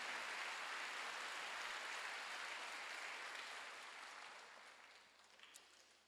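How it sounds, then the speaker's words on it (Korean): Applause from a church congregation during a Sunday worship service: a dense, sustained wash of many hands clapping at once, steady and fairly loud for several seconds before tapering off near the end. "박수로 나와주시오"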